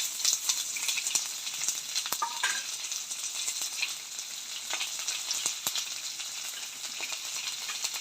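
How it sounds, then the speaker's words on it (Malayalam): Chopped onion fries in a pan of oil for a taro stem curry, giving a continuous bright sizzle broken by occasional clicks and scrapes of stirring, close and steady throughout. "ഉള്ളി ഇവിടെ ഫ്രൈ ആയിട്ടുണ്ട്"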